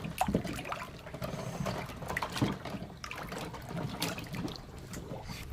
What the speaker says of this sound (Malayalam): ഇതിൻ്റെ വെള്ളം മാറ്റുകയാണ്.